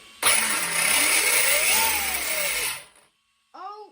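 Twin motors of an Arrma Typhon RC car on 12S power spin up indoors with a loud, rising whine and buzzing roar for a couple of seconds, then cut off, leaving a brief chirp.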